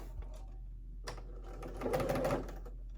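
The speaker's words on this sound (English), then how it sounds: "back to the sewing machine" A home sewing machine stitches the seam of a summer halter maxi dress, running in short uneven bursts with a steady low mains hum underneath and no voices.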